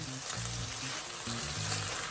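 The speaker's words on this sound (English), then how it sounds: "Get all those onions and tomatoes cooking together." Chopped onions and tomatoes sizzle and crackle steadily in a hot pot as they are stirred, a close, busy frying hiss with soft scraping bumps throughout.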